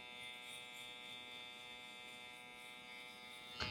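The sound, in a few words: electric razor shaving hairs at the nape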